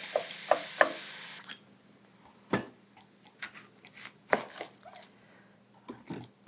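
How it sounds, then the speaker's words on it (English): A knife chopping a sweet onion on a cutting board in a home kitchen, three quick crisp chops at the start, then a pause and a scattering of irregular cuts, close and dry. "we're gonna go cut up some onion."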